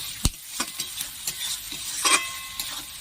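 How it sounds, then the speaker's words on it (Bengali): Tomato paste fries in hot oil in a pan, a continuous sizzle broken by a series of sharp clinks and scrapes as a spoon stirs it, close and clear. "এটা আমি দিয়ে দেবো টমেটো বাটা এটা আমি ভালো করে কষে নেব"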